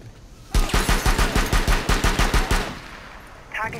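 Rapid automatic gunfire in Rainbow Six Siege on the House map, a loud burst of about fifteen evenly spaced shots lasting two seconds, then a short fade before more game sound.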